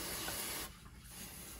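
Water mist sprayed onto moss in a feather leg baboon tarantula enclosure gives one steady, close hiss for just over half a second, then cuts off to quiet room tone.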